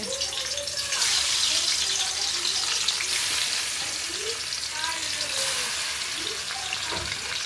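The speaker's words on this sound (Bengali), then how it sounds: "মাছটাকে দিয়ে দিলাম কড়াইতে।" Fish sizzles loudly and steadily in hot oil in a wok (kadai), a continuous close frying hiss with faint crackles running throughout and no voices.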